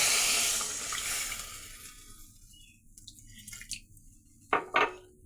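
A little water is poured into a pan of spices that have been fried in oil for a murola fish and tomato sour curry. It hits with a loud hissing rush that quickly fades, followed by a few faint bubbles and two clinks near the end.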